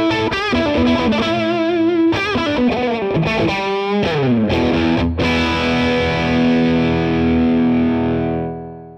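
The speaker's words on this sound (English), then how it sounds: "on channel two, I've now flipped over to the high mode so we can really hear the gain capabilities of" Electric guitar driven through the high-gain channel of a MESA/Boogie Fillmore 25 amp, playing distorted riffs and chords with rich sustain, ending on a long ringing chord that slowly fades, loud and alone.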